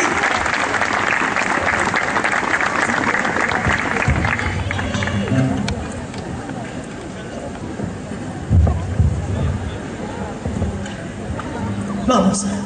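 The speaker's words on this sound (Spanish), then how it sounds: "Un aplauso, por favor, muy grande." Audience applause at a live folk music show, a dense burst of clapping for the first few seconds that then thins out, followed by scattered sounds and a voice speaking.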